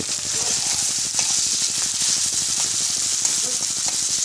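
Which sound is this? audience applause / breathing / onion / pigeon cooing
onion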